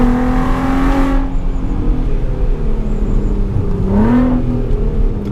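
A VW Golf R32 engine revs hard and then drops, with a quick rising blip on the downshift near the end, loud and close, with no talking.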